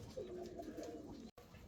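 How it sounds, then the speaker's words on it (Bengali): Lahori pigeons cooing softly in a loft, a low continuous throaty coo lasting about a second, faint and close with a brief cut near the end. "অরিজিনাল লাহোরি কবুতর দেখেন।"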